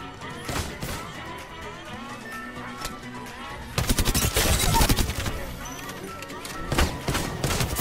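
R99 submachine gun fire in Apex Legends: rapid automatic bursts that swell into a loud, dense stretch of gunfire mid-clip, with shattering armor-break crunches and other game effects mixed in.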